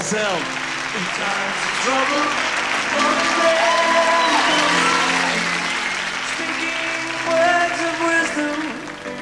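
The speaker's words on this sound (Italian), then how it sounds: "Un applauso." Studio audience applauding a band on an Italian TV show, a steady broadband wash of clapping with tonal music or voices threaded through it, loud and sustained for about nine seconds.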